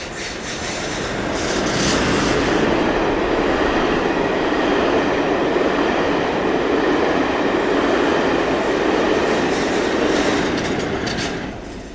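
Class 47 diesel locomotive 47711 hauling a Brighton to Preston train, with the locomotive at the rear having failed; a loud, steady rumbling roar of engine and rolling wheels holds for the whole stretch, swelling in over the first seconds and easing slightly at the end.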